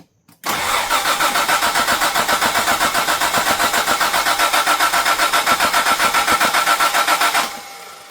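A 1985 Jaguar XJ6 with suspected weak spark cranks steadily for about seven seconds, the starter's loud, even rhythmic churn never catching into a run before cutting off.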